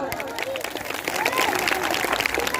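Clapping from a crowd at a Jai Bhim gathering marking Mata Ramabai's birth anniversary, honouring a team; steady, fairly loud applause with voices and babble mixed in throughout.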